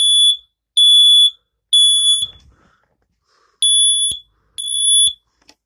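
A BRK FG 200 smoke alarm under test sends out piercing high-pitched beeps in a steady pattern, three long tones, a pause, then two more, loud and close with no talking.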